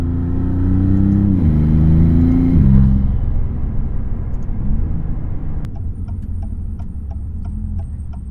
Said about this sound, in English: You can hear the turbo spool so perfectly.